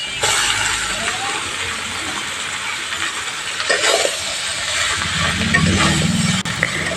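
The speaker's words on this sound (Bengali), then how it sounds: "এখন আমি আগে থেকে কেটে রাখা লাউগুলো এর ভিতরে দিয়ে দিচ্ছি" Chopped bottle gourd is tipped into a pan of fried spices, bringing a loud, steady hiss with clattering knocks and a brief louder burst partway through.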